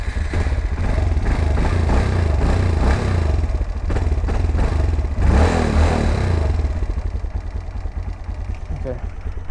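Yamaha FZ6 motorcycle engine, cold and needing warm-up, starts and runs with a steady low rumble and some uneven revving, loud and close throughout, with a voice speaking over it at times.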